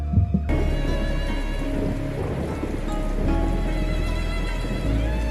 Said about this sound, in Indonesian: Malam itu, hujan turun benar-benar sangat deras. Diiringi suara petir yang bertubi-tubi